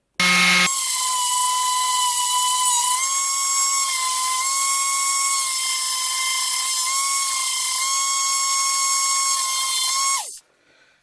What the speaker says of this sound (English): I'm gonna do the other one and then go ahead and start sanding this down